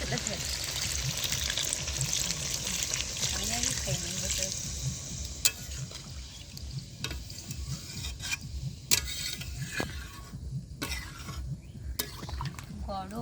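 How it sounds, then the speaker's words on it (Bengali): Water is poured into desi chicken curry frying in a pot in a village kitchen, with a gushing splash over the sizzle and then stirring. A voice talks over the cooking sounds. "এবার জল দিয়ে দেবো"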